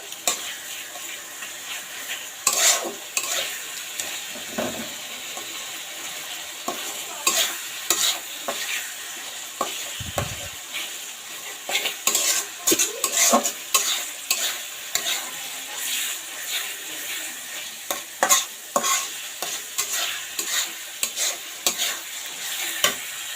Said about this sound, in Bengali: এটা এখন আমি খুব ভালোভাবে এখন কষাবো